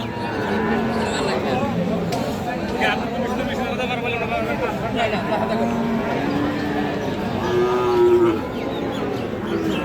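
Bull calves and cattle low repeatedly at a busy livestock market selling Friesian and crossbred bull calves, several drawn-out moos rising over a constant crowd murmur, with people talking throughout.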